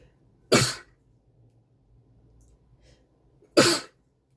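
Two sharp, explosive bursts about three seconds apart, each a sneeze-like expulsion standing out against near silence.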